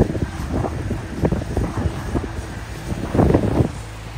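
Wind gusts buffet the microphone on a beachfront hotel balcony at a Daytona Beach resort, a steady rumbling roar with irregular thumping pulses throughout.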